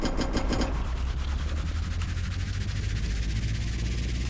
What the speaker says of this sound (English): we can go ahead and turn on the key.